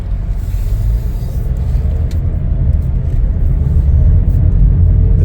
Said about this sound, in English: let's take it for a spin and see how this baby drives.